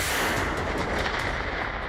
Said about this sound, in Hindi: वर्ल्ड वॉर वाला धमाका।